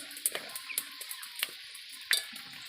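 Potato and egg pakoras fry in hot oil with a soft, steady sizzle. Sharp clinks of a utensil tapping the pan and stirring recur every half second or so, close and fairly quiet, with no voices.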